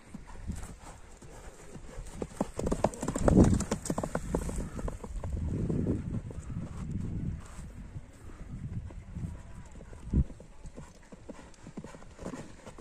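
Horses gallop nearby with a steady stream of clip-clopping hoofbeats, louder at first and then easing. Light wind noise buffets the microphone.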